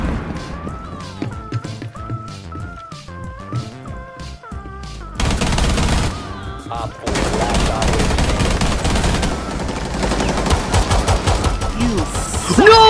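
Gunfire rattles through a Rainbow Six Siege match, with rapid bursts of automatic weapon fire and impacts layered over game music and effects, growing denser and louder in the second half.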